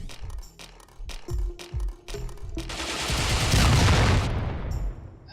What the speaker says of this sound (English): Much easier to destroy them with a flamethrower, which I do now.